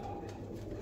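Pigeons coo softly and continuously at close range, a low steady murmur with no talk over it, among a group of ten birds kept for pigeon flying.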